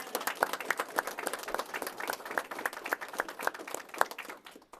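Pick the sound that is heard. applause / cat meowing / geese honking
applause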